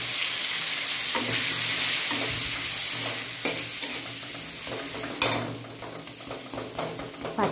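Potatoes sizzle and hiss steadily in a hot oiled wok seasoned with salt and turmeric. A spoon stirs and scrapes against the pan now and then, and the frying is loud and close.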